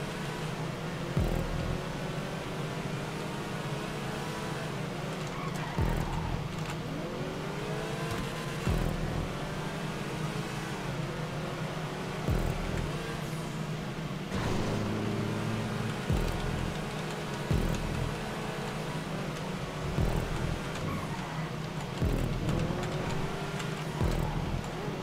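Cars race in GTA 5 Online Sports Classics land races, with a steady engine drone throughout and periodic shifts and revving as gears change, plus small ticking and bumps. No talk.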